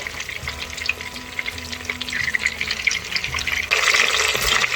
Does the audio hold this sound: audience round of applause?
no